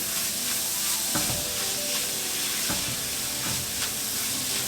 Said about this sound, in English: Just move it around a little bit so the spices don't burn on the bottom of the pan.